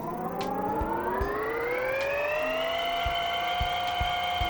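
The engine of a vehicle in the video game Screw Driver makes a loud, steady whine that rises in pitch like a siren and holds high, with faint knocking clicks underneath and no speech.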